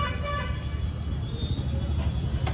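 A motorbike horn toots with a steady, nasal tone over the low rumble of traffic and idling engines nearby.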